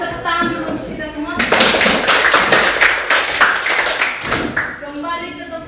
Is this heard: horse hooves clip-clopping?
no